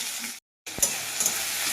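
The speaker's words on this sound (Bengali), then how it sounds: "এবার দেখো কড়াইয়ে আমার দিলাম তুলে রাখা টমেটো আর পেঁয়াজ ভালোভাবে ভেজে নেব।" Tomato and onion fry in a wok with a steady hiss and sizzle, briefly cut off, then resuming with faint stirring clinks, close by.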